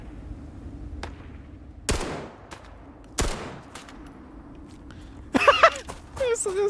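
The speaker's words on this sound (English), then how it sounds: "and she starts shooting at it instantly" Gunfire in the video game Starfield, a companion firing at local wildlife: a few sharp, separate shots spaced out over several seconds, then a short burst of rapid fire near the end.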